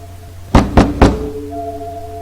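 Three firm knocks on a door in a horror story, evenly spaced and close, ringing out over a low steady hum with a soft tonal drone afterward.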